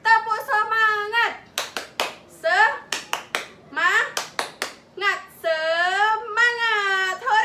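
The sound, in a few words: children clapping a classroom clap chant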